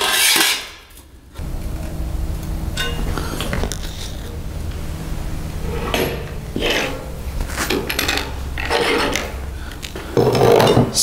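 Metal being bent by hand on a workbench while building a light source enclosure: close rasping scrapes, rubs and light metallic knocks that come in uneven bursts with short pauses between.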